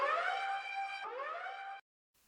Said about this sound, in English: That's like a DJ siren that you hear at a EDM concert